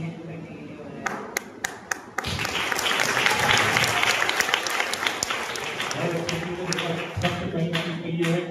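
An audience at an award ceremony bursts into sustained applause after a few isolated claps, swelling loud and dense, then thinning while a voice speaks over it.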